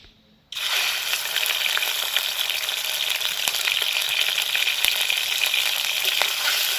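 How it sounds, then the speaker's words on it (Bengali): Shrimp dropped into hot oil in a pan, a sudden loud burst of frying that holds as a dense, steady crackling sizzle after a quiet start. "তো তেলটা গরম হয়ে গেছে মাছগুলোকে ভেজে নেব"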